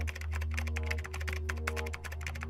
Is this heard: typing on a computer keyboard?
yes